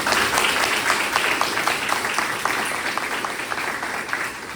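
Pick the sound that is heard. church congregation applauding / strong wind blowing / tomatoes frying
church congregation applauding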